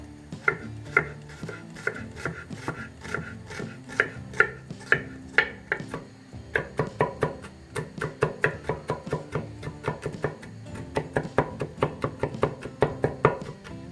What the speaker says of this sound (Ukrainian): Насікла чесник